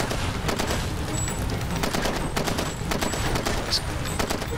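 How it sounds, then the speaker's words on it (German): Explosions and dense gunfire in the video game Far Cry 2 form a continuous, loud barrage of overlapping blasts and rapid shots with no pause throughout. "Mensch, explodiert auch da."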